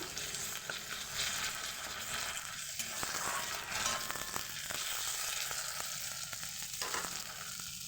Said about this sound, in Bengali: পেঁয়াজটা সুন্দরভাবে ভাজা হয়ে গেছে এর মধ্যে দিয়ে দেবো আদা রসুনের পেস্ট